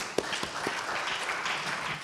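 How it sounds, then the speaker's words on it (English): A school audience applauds three students after their environmental education presentation. The clapping is dense and steady, with a few sharp claps standing out at the start, and lasts about two seconds without talk. "Let us once again give a big applause to them."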